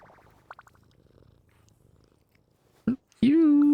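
A cat purring while being petted in a video game quest, a soft, steady low rumble near and faint, followed by a louder sharp sound at the end.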